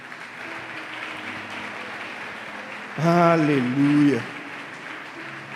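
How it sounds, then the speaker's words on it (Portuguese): A church congregation claps steadily as a continuous wash of applause, while a voice rises loudly over it partway through in a sung or shouted exclamation. "Eu queria que você aplaudisse a Jesus agora."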